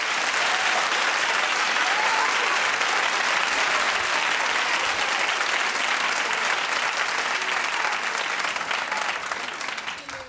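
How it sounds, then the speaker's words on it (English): A television talk-show studio audience claps in a sustained, dense burst of applause that fills the room for about ten seconds before tapering slightly at the end. "Clap if you think Phaedra knew all along."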